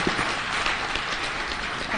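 Audience at an exhibition opening in Mbarara applauding after a speech, steady dense clapping throughout at moderate level with no talk over it.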